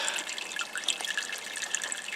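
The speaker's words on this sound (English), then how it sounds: "Dripping all the water out of the airlock by holding it." Water drips and trickles faintly out of a homebrew elderberry wine airlock as it is held, a quiet, close patter of small irregular droplets with no voices.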